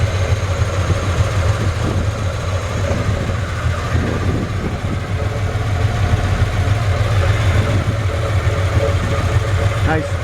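A 1966 Chevrolet C-10 pickup's engine, likely a 230, idles with a steady, low rumble throughout, with someone talking over it.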